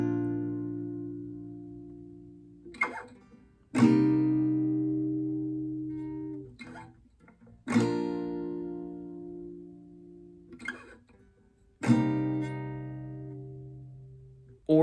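Guitar strumming the bridge chords of a song, with four sustained single strums ringing out and fading, each followed by a brief quieter strum or pickup, heard clearly and alone.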